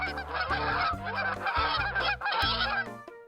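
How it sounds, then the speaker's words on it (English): A flock of geese honks continuously overhead, loud and close, the calls overlapping in a busy, energetic chorus over an open garden. "A flock of geese pass over us, nosy and energized."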